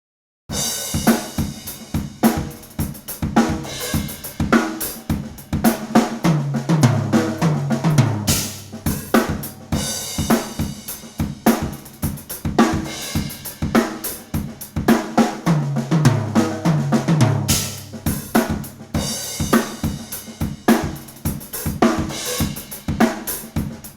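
A full drum kit groove loops twice, each pass broken by a quick descending tom fill before the beat resumes, loud and steady with no talking.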